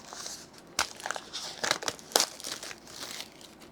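Shrink wrap is cut and peeled off the packaging of an SD card, making close, crisp crinkling and crackling with a few sharper rustles, steady for a few seconds.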